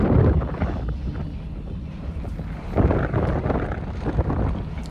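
Strong wind gusts at a mountain hut buffet the microphone with a low roaring rush that swells and eases in waves, close and loud, with no speech.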